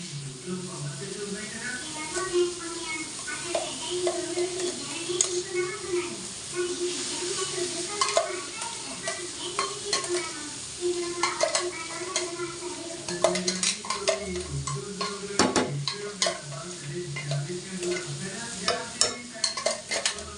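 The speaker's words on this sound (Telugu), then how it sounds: "మిక్సీకి పట్టుకున్న కొబ్బరి పేస్ట్ అండి, మసాలా, కొబ్బరి మసాలా, ఇది మొత్తం ఇప్పుడు దీనిలో యాడ్ చేసుకుందాం" Coconut masala paste is stirred into a frying coconut egg curry, with a steady sizzle and repeated scraping and clinking of the spoon against the pan throughout, while a voice sounds in the background.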